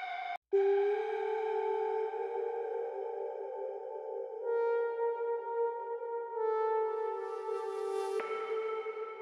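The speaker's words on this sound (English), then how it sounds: "I use a lot of ear candies, which sound like this." Ear-candy sound effects from a melodic house track, a bright sonar-like ping followed by sustained, echoing tonal layers that shift and swell.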